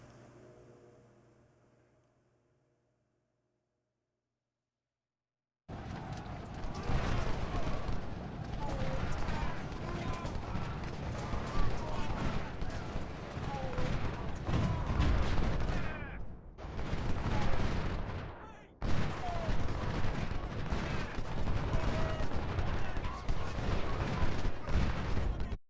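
Musket volleys and artillery fire in Ultimate General: Civil War, a dense, loud roll of overlapping gunshots and booms after a quiet start, with brief lulls between bursts.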